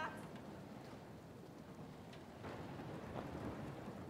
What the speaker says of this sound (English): Maybe a little too much rain.